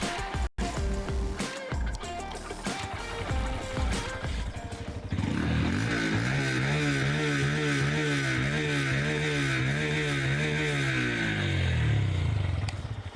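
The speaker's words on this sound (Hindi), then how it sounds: "एग्जॉस्ट टेल जो है वो भी काफ़ी चंकी सा है, सुनाता हूँ मैं आपको उसकी आवाज़ कैसी है।" A Honda CB 125 Hornet motorcycle's chunky exhaust sounds close up, first idling with a blip, then revving steadily into a sustained, rising and falling engine drone, loud and without speech.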